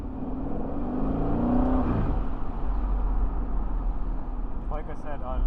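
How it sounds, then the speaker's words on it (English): A 2021 Aston Martin Vantage Roadster driving in Dubai, its engine rising in a brief rev before settling into a steady road drone, with short crackling throttle blips on the overrun near the end. "I love the throttle blips on the overrun"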